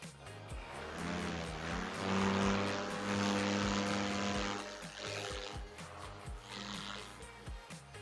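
A paramotor engine revs during takeoff, its propeller drone building to a loud, buzzing roar that holds for several seconds and then drops back to an uneven, pulsing idle, with no speech.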